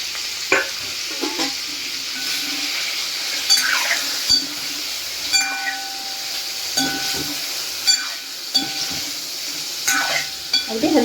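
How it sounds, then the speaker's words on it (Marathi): Paneer sautés gently in a pan over low heat, a steady close sizzle and hiss running throughout, broken by occasional soft stirring scrapes. "अगदी हलक्या हाताने आपण परतून घेणार."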